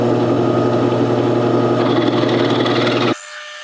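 A power drill bores a hole through a metal steering arm, grinding steadily at close range with a constant motor whine for about three seconds, then cutting off abruptly, leaving a quiet room.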